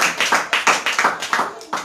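A church congregation claps in a quick, steady rhythm, about ten sharp bursts in two seconds, loud and close, with some voices mixed in.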